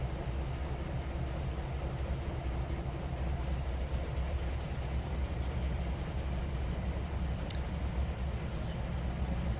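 In the Trainz 2019 railway simulator, a locomotive rolls forward past a dwarf signal, giving a steady, fairly quiet low rumble of wheels and engine throughout, with a faint tick late on and no talking.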